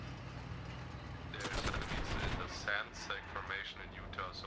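Gunfire in the military game Arma Reforger, a rapid string of sharp shots and bursts starting abruptly after a steady background hum, fairly close, with a voice talking over it.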